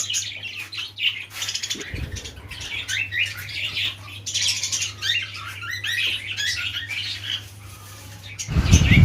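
Budgerigars in a large home-built cage chirp and squawk in busy, overlapping chatter under a low steady hum. A louder rustle or thump breaks in near the end.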